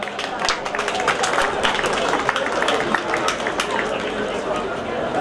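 An outdoor crowd claps for a folk ensemble at a folk-costume parade during the Cântecele Oltului festival in 2018, with scattered sharp handclaps over steady chatter and nearby talk.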